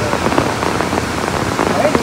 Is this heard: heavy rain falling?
yes